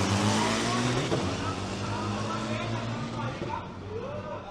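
Turbo diesel pickup trucks in the 300 class at the Isuzu Race Spirit drag racing final in Thailand, a loud engine roar with a deep, steady drone that fades slightly as the trucks pull away.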